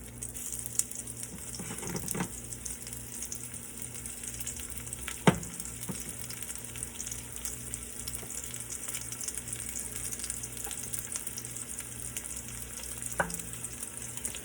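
Oxtails and neck bones fry in extra virgin olive oil, giving a steady, close sizzle with occasional pops and stirring clatters throughout.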